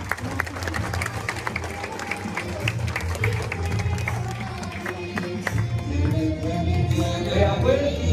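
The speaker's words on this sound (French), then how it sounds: "Et nous demandons encore l'applaudissement." Audience clapping at an outdoor statue inauguration in Saint-Paul, Réunion, a steady crowd applause running throughout over a low background hum.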